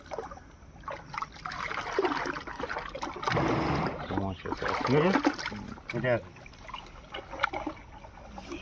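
Water being stirred by hand in a fishing pond, with close splashing and swishing in bursts while people talk nearby.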